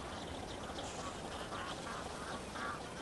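Many ducks quack across open, empty water, a faint distant chorus of overlapping calls spread through the scene with no voices over it.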